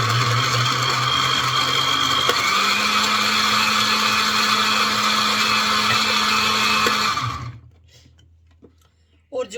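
Blender running steadily while making persimmon (amlok) juice, a loud, even motor whine for about seven seconds before switching off abruptly into near silence.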